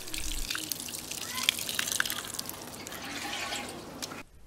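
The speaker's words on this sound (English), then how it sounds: "Finally, give the plant a good watering." Water pours from a watering can onto a newly planted delphinium in soil, a soft splashing trickle with scattered drips, close and fairly quiet, ending abruptly.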